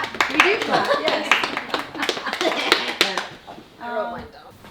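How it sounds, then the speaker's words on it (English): A group of people clapping together in a room at a weightlifting training camp, a dense burst of applause with sharp overlapping hand claps, close and loud, with chatter mixed in and a voice rising near the end. "Should we clap? We do clap."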